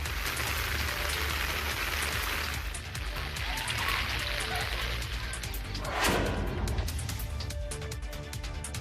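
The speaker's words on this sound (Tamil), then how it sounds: "சாட்டியக்குடி, வலிவலம் உள்ளிட்ட பல்வேறு பகுதிகளில் கனமழை பெய்தது" Heavy rain pours down steadily during a village assembly held outdoors under umbrellas, a dense, loud, continuous hiss of drops with a slight swell in the middle and no clear voices.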